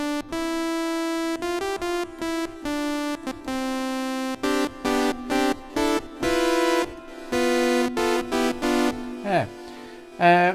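Bright, buzzy sawtooth-wave tones from the LayR synthesizer app on iPad played in a rhythmic pattern of short and sustained notes, with a pitch bend near the end.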